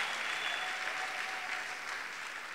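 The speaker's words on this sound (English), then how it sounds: "let's clap hands for Jesus." Church congregation clapping hands during a worship service, a dense, even wash of applause held steadily at moderate volume with no voices over it.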